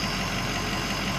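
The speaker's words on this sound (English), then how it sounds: "It's idling really smooth." An engine idles after a fuel filter change, an HFCM filter change and a Blue Spring kit install. The idle is loud, close and steady, with a smooth, deep, even tone and little rattle or vibration.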